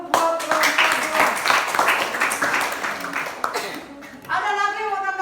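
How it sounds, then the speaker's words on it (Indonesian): A classroom gives a presenting student group a short burst of clapping, a moderate round of applause with a teacher's voice talking over it. "berikan aplaus dulu buat kelompok 2"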